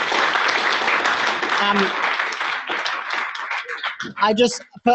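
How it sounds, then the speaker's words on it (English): Audience at a human rights panel event clapping for three speakers, a moderately loud burst of applause that thins out as a voice begins talking over the last seconds. "can we give a round of applause to our three wonderful speakers?"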